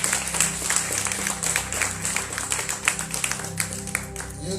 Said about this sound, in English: I want you to clap for yourself.